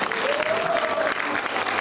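A crowd at a poetry recitation concert applauds steadily, with dense clapping throughout and a brief tonal sound rising over it.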